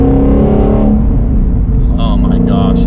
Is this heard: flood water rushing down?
no